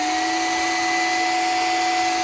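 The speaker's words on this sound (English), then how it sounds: "We're pulling 32 amps to run the hair dryer" A 600-odd-watt hair dryer on its high setting, powered from a 12-volt battery bank through a VEVOR 3600W inverter, gives a constant, loud whooshing hum with a steady whine and no break.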